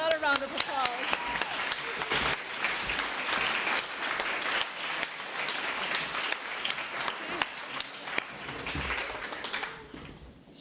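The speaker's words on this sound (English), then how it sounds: "I think that deserves another round of applause." Sustained applause from a large audience, many hands clapping steadily for about ten seconds before tapering off, with a few voices under it.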